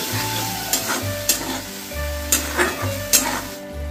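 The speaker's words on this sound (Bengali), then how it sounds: "আবারও ভালো করে এটা মিশিয়ে নিচ্ছি" A spoon stirs palak paneer mixture in a pan after water has been added, giving several distinct scraping strokes at an irregular pace over a steady close-up sizzle, with no talking.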